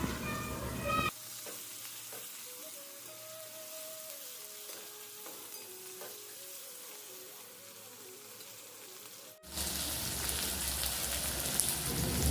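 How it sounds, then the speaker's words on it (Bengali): Onion and spices sizzle and crackle in a pan, close and fairly loud at the start and end, quieter in between, with no voices. "এর ওপর আমি পেঁয়াজটা দিয়ে দিলাম দিয়ে এবার মশলাটা কষে নেবো"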